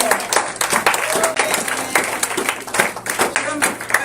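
A church congregation claps and cheers together, a lively dense applause with rhythmic clapping, voices calling out throughout, steady and close in a reverberant room.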